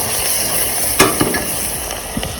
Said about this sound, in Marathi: हा तिला कांदा टाकणार आहे बरं का मला पूर्ण हलवून घ्यायचं